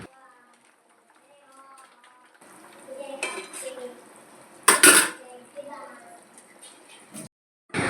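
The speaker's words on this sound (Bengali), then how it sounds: "আমাদের ডিমের ঝোল কিন্তু কমপ্লিট হয়ে গেছে, মা এখন নামিয়ে নিচ্ছে।" A metal pot of egg curry is lifted off a home stove, and pans and utensils clank and scrape in a few sharp bursts amid quieter kitchen clatter, with a voice speaking in the background.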